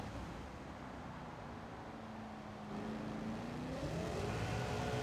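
A race car engine in Gran Turismo 7 during a Le Mans race holds a steady, moderate drone under light throttle, then swells slightly as its pitch climbs toward the end.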